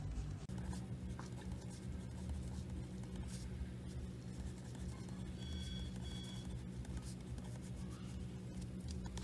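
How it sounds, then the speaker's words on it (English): A pen scratches across paper as someone writes out a maths derivation by hand. The writing is faint and continuous, set against a low, steady background hum. "So for that I'm writing E as"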